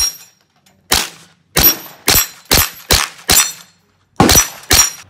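Eight sharp Ruger Volquartsen rifle shots ring out in an irregular string outdoors, each crack followed quickly by the clang of rounds striking close steel targets, loud with short decays and brief gaps between.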